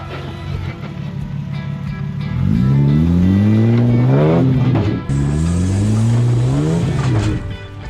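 A Toyota 80 series or Nissan GU Patrol four-wheel drive claws up a steep off-road track, its engine revving hard in two loud, rising surges that climb in pitch, close and alone.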